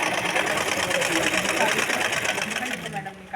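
A sewing machine runs continuously, stitching a dress with a fast, even mechanical whir and rattle close up, while a person talks over it.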